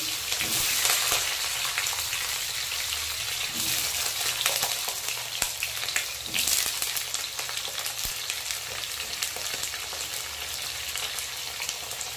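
Potatoes and mixed vegetables, with a few green chillies, sizzle steadily in hot oil in a pan for a Bengali hilsa fish curry, a dense continuous crackle with occasional stirring clinks.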